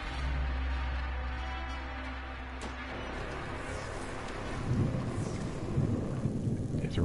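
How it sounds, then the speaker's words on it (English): Steady rain pours down in the video game Dying Light with a low rumble of thunder underneath, growing slightly heavier toward the end. "It's raining out there"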